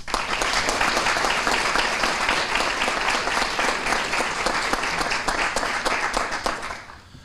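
Sustained audience applause at a high school military recognition ceremony honoring the mayor and veterans: dense, even clapping from a large crowd in a hall, steady and loud for several seconds before tapering off at the end.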